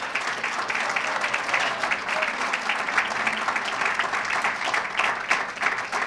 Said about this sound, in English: So I just like a round of applause for the Quincy people